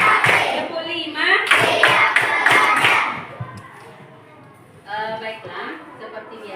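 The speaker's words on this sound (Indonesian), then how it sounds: "Tepuk 1, tepuk 1, tepuk 2, tepuk 3, tepuk 4," Schoolchildren in a classroom warm-up clap in short counted bursts while chanting together, then fall quiet before a teacher's voice resumes.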